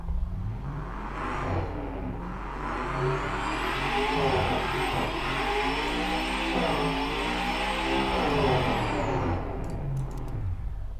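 Simulated car engine from the Automation car tycoon video game revs steadily for about eleven seconds, a loud, continuous buzzing drone with shifting pitch and no one talking over it.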